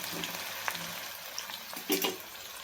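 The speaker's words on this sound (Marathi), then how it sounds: "तेल गरम झालेलं आहे. त्यामध्ये आपण हा कांदा टाकून घेऊया. असं हलवत राहायचं आहे." Sliced onion frying in hot oil for garnishing egg biryani, a brief steady sizzle with a couple of quick stirring scrapes near the end.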